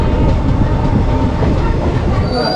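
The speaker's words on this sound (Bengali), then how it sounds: "ফাইনালি চলে এলাম মুকুরিয়া রেলওয়ে স্টেশন" A train at Mukuria railway station rumbles loud and close, a steady dense roar of wheels on track that lasts throughout with faint high squeal toward the end. Nobody speaks.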